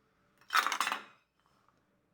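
Roasted cashews slide and clatter out of a hot ghee pan onto a plate, a single short burst of near dry clinks and rattles lasting about half a second before falling quiet.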